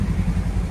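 A stock Polaris four-door side-by-side idles in below-zero cold, its engine giving a steady, loud, low rumble with an even, slightly uneven-pulsing throb close by.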